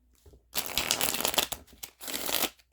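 A deck of tarot cards is shuffled close by in two quick riffling bursts, a crisp fluttering rush of card edges separated by a short pause.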